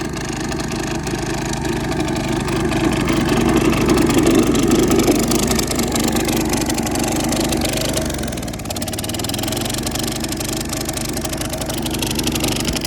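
A vintage lawn mower engine runs steadily close by, a loud continuous drone that dips briefly and then carries on.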